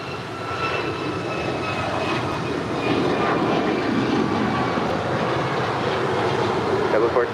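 A Spirit airliner landing on runway 25 left at LAX, heard as a steady broad jet roar that swells slightly partway through, with faint tonal whine above it.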